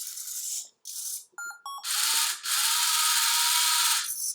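A small Arduino-controlled robot reboots after a program upload, giving a quick run of clicky ratcheting bursts, a few short electronic beeps, then a sustained whirring motor hum, all close and clear.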